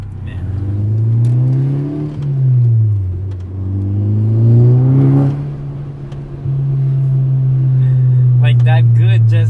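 A VW MK6 Golf R with the EA888 engine and a Unitronic Stage 2 tune revs under load, loud and close, its pitch rising and falling through several pulls with brief lifts off the throttle.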